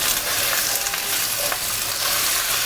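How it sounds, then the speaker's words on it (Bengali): Beans, potatoes and cauliflower fry in a pan while being stirred, giving a steady, loud, continuous sizzle with faint scraping throughout, and no voices. "এখন শুধু এটাকে নাড়বো আর নাড়বো"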